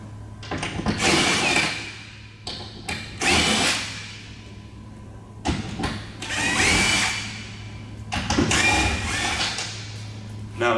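A power drill whirs in several long bursts, loud and close, as it takes four bolts off the mount arm of an 18V power awning. Brief pauses with handling noise separate the bursts.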